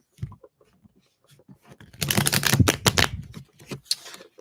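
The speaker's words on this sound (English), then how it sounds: "I'm going to do a quick shuffle." A deck of tarot cards is quickly shuffled, with a few scattered clicks at first, then a dense burst of riffling flutters before it tapers off. The sound is close and has no speech over it.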